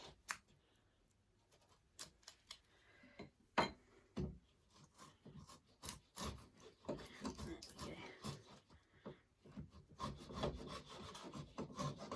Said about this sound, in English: I'm just going to have to come in and sever some of those fibres with my chisel.